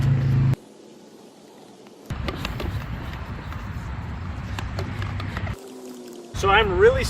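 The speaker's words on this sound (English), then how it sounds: "So I'm really spraying it down into the cracks." A garden sprayer pushes hot soapy water into cracks in a driveway, giving a steady hissing, trickling spray that runs for a few seconds in the middle, with brief talk at the start and end.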